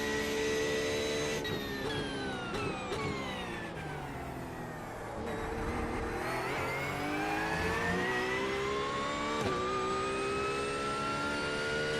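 Race car engine in the iRacing sim during an IMSA GT3 session, a high-pitched whining rev that climbs and dips repeatedly through gear changes, steady and loud with no talk over it.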